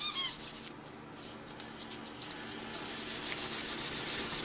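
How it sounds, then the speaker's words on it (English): Close, scratchy rubbing of sandpaper worked back and forth by hand over the whole surface of a sharpened knife blade, steady strokes with no talking. "Now I'm not just sanding that one spot, I'm sanding the whole knife."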